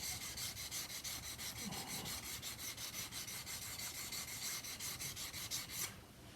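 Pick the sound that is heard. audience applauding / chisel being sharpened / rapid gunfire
chisel being sharpened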